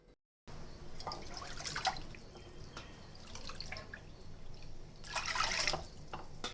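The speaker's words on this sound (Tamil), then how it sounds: "நான் ரெண்டு கப்பு ராகிக்கு மூணு கப்பு வாட்டர் சேர்த்துருக்கேன்" Water is poured into a pan to make ragi idiyappam, three cups for two cups of ragi flour, making close, splashing bursts of pouring and trickling in several pulses.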